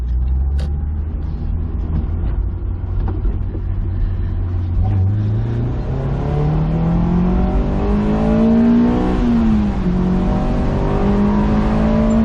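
Honda S2000 AP2 engine pulls hard under acceleration, its pitch climbing steadily as it revs up through VTEC, briefly dipping at a shift and rising again; loud and close, steady throughout with no talking.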